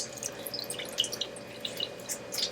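Juice drips and wet squelches come from Seville oranges being squeezed and wrung by hand for homemade marmalade, a soft, close series of irregular drips and splashes with no talking.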